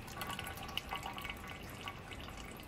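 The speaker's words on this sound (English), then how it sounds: "Just gonna let that drip there for a little bit" Engine oil drips from the oil filter housing of a Toyota Verso during an oil change, scattered light drops ticking over a faint watery background, a few slightly louder plinks spaced irregularly.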